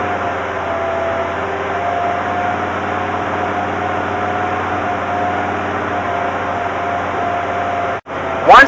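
An old tractor engine idles steadily at close range, a low, even mechanical drone running unbroken for about eight seconds before a brief dip and a short sharper burst at the end.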